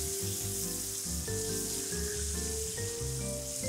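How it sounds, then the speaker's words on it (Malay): Battered squid frying in very hot oil gives a steady, hissing sizzle, heard beneath louder background music that runs throughout. "Goreng sotong celup tadi. Minyak kena betul-betul panas"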